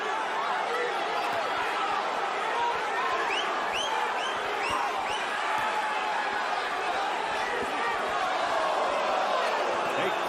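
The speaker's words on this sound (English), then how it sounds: "Crowd reacting on every throw." A boxing crowd at the José Luis Castillo vs Diego Corrales fight roars steadily, swelling with cheers and shouts as punches land, a dense, continuous wall of arena noise with voices mixed in.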